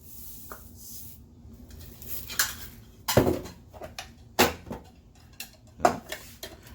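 A spoon scrapes and knocks against a pot as rice is stirred into jambalaya, giving irregular close clinks and thuds over a soft background with no voices.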